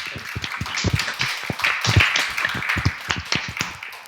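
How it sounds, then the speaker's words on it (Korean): A church seminar audience at Jesus Centered Church claps in response to the pastor, a burst of irregular, fairly close hand claps that builds and then thins out over a few seconds. "박수 한번 치세요"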